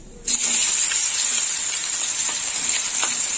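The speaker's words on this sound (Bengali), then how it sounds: "পেঁয়াজটা একটু লাল লাল করে ভাজা হবে" Chopped onions hit hot oil for chicken curry with a sudden burst, then a steady, bright sizzle carries on close by, with a few faint stirring scrapes underneath.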